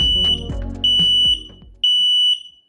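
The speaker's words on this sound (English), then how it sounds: "To check if it's working, press the test button." A Daytech SM06TA smoke alarm sounds its test signal: three loud, piercing, evenly spaced beeps close by, following a brief rustle of handling, with no one talking.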